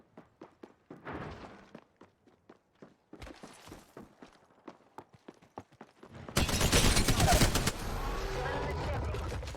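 Gunfire in Apex Legends, ranked solo play as Wraith: sharp rapid bursts of shots in quick rhythmic runs, ending in a loud sustained roar of heavy fire and impacts close up.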